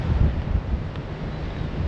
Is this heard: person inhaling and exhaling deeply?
no